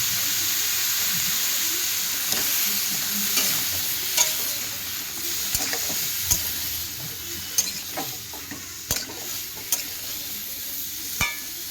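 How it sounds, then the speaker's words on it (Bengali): Bottle gourd with turmeric fries in a pan, a constant loud sizzle and hiss close by, punctuated by periodic sharp spatula scrapes and taps. "হলুদ গুঁড়ো দিয়ে অনেকক্ষণ ধরে আমি ভেজে নেবো লাউটা।"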